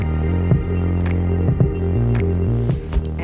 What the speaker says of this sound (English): we're going to get our mixer turned on slow